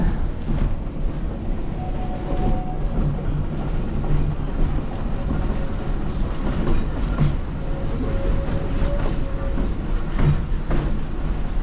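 The Yosemite Mountain Sugar Pine Railroad train rumbles steadily along the tracks with a continuous, fairly loud rolling roar and faint rhythmic clatter, without talk.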